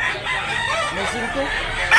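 A rooster crows once at a busy fowl market in Tabunok, Talisay, Cebu, a loud nearby rising-and-falling call lasting most of the moment, with market bustle underneath.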